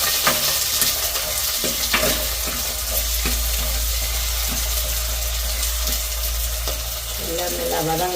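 Small onions sautéing in a pan over a steady loud sizzle and low rumble, with regular light scraping taps of a spoon, close up, no talking.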